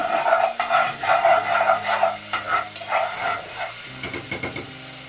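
Garlic and ginger paste frying in ghee over a gas flame, stirred with a spoon: steady sizzling hiss with scraping strokes, close and fairly loud, easing into lighter clinks near the end.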